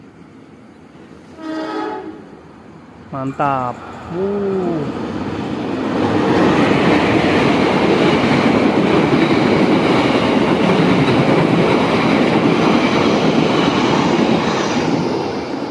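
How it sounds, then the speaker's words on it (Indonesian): A Pasundan passenger train passes Cimekar station at night: a couple of loud horn blasts sound first, then a heavy, continuous rumble and rattle of the cars rolling past close by. "Kereta api Pasundan."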